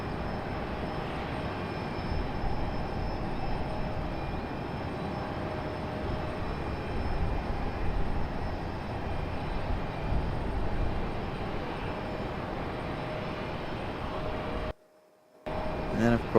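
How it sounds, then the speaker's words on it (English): A large airplane at Raleigh-Durham International Airport at sunrise produces a steady, far-off engine roar that drones evenly throughout, with a brief dropout near the end. "But yet you can't pick up that big airplane in the background."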